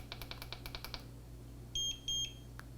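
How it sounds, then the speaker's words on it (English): An ECOROAD EC8 electric scooter's controller gives two short, bright electronic beeps in quick succession after a run of faint rhythmic clicks, fairly close in a quiet room. "So you heard that beep."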